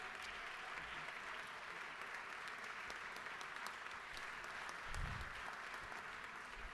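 Audience applause fills the Georgia House chamber as the crowd stands to welcome a visiting pastor, a steady, dense clapping that holds evenly throughout with no voices over it.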